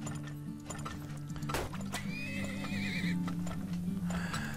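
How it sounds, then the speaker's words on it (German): Several horses in the oil-drilling game Turmoil whinny loudly over a steady low hum of game music, with a long wavering neigh in the middle and the dull clop of hooves around it. "Wir haben jetzt ganz viele Pferde."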